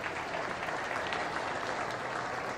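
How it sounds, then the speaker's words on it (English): A round of applause for junior showmanship contestants at a beef cattle show: dense, continuous clapping from the crowd, steady and fairly faint throughout. "give each and every one of these juniors a round of applause for being out here in showmanship"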